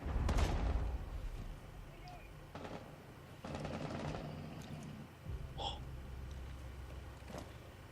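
Bursts of submachine gun fire in the tactical shooter game Rainbow Six Siege, several short volleys across the clip amid game noise, with players talking over it.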